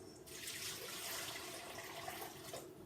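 Water poured steadily into a dish while melting chocolate nearby, a continuous, even splashing stream lasting a few seconds with no voices.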